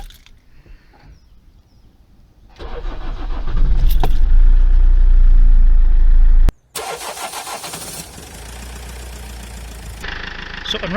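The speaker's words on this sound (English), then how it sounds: "The next thing to do is to start the car with the good battery." A car with a dead battery cranks and fires up during a jump start from another car, then settles into a loud, steady idle, cuts off abruptly and catches again.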